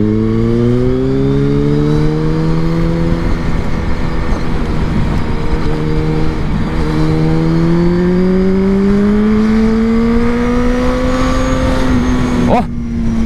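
A Suzuki B-King 1340cc motorcycle engine drones loudly and steadily, its pitch rising and falling as it revs over about thirteen seconds, close by.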